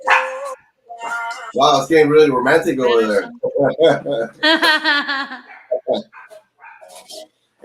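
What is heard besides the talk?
dog barking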